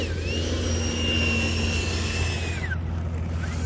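An E-flite F-18 Blue Angels RC jet taxiing down a runway gives off a steady, loud electric ducted-fan whine with a constant low hum, and the pitch drops near the end as the throttle eases.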